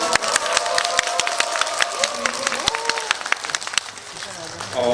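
Audience applause at a Korean film screening and guest visit: dense, steady clapping from a crowd indoors, fairly near, continuing for about five seconds and easing slightly toward the end.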